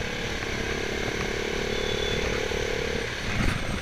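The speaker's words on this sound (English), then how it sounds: "See, that was a hard downshift" KTM Duke 390 motorcycle engine running through a hard downshift: a steady, buzzing single-cylinder drone with a sustained tone that holds and then drops off near the end, heard close with wind noise and no talk.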